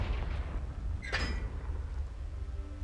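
A single sharp blast of a Confringo spell explosion bursts out, loud and close, with a brief crackling burst and a short fading tail over low rumbling background.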